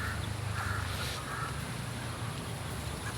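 A crow caws several times at a distance, faint and hoarse, over a steady outdoor rumble of wind or background noise near a pond with ducklings.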